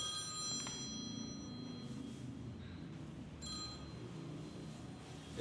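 A phone rings in bursts of bright tonal trills over a steady low background murmur, moderately loud and fairly close.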